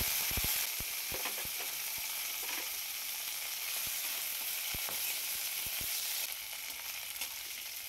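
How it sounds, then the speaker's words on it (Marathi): Guar bean pods sauté in hot oil with a steady, close sizzle, broken by sharp clicks and pops from stirring, with no talking. "तेलावर छान परतून घ्यायच्या नरम होईपर्यंत"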